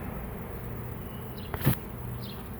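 A large honeybee swarm moving into a hive in Valley Cottage, New York, giving a steady outdoor buzzing hum, with one louder insect passing close by for a moment and no talk.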